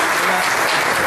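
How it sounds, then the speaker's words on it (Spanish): A comedy show audience bursts into loud, dense applause, continuous clapping filling the room throughout. "Fuerte el aplauso para el señor que está aquí"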